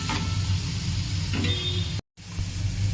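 Chillies sizzling in a hot pan, a steady close frying hiss with brief stirring scrapes, interrupted by a momentary dropout.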